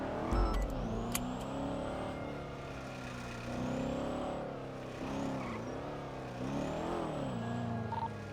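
A car engine in GTA 5 roleplay revs and surges in repeated waves over about eight seconds, rising and falling in pitch with a steady drone underneath and faint tire and road noise.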